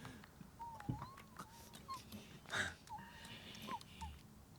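A dog in an animated anime episode, heard as soft whimpers and short breathy wheezes scattered through a quiet background, with a few faint whine-like tones and brief gasps rising and falling.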